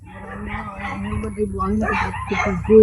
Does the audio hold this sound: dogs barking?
yes